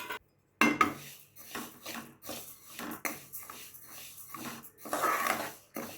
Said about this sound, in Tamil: இந்த கைக்குத்தல் அரிசி இதை வறுத்துக்கிறேன்.